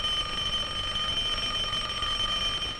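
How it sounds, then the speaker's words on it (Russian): An alarm clock rings in an early Soviet sound film: a steady, unbroken metallic ringing with bright overtones that holds at an even level throughout, with no voices. "С одной стороны звенит будильник"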